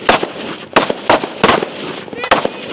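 Rifle shots at a shooting stage during a women's elite national competition, a string of sharp, separate cracks at irregular intervals, fairly close and loud, with faint talk in the background.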